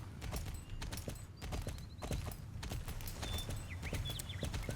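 Horse hooves clip-clop steadily in Star Stable, a continuous quick rhythm of footfalls under faint chimes and background game sounds.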